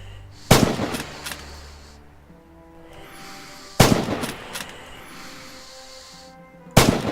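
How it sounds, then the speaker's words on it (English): Three sharp rifle shots ring out in the WWII shooter game Rising Storm, spaced about three seconds apart, each a loud crack followed by a fading echo over low ambient background. "Prone position, open fire."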